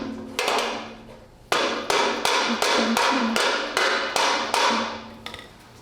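A hammer taps a base collar into place during installation, about nine sharp, evenly spaced ringing strikes close up with a steady rhythm and no talk.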